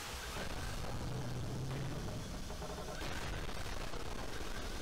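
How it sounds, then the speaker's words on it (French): Explosions and rapid weapon fire in the side-scrolling mech game Gigantic Army on Nintendo Switch make a dense, continuous barrage of blasts that stays loud and busy throughout. "Les explosions sont superbes"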